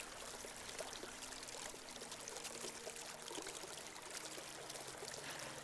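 River water flowing in a steady, faint wash of broadband rushing and trickling, continuous and unbroken with no voices.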